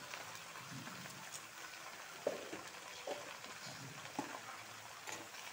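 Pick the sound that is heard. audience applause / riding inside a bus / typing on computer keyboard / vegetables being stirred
vegetables being stirred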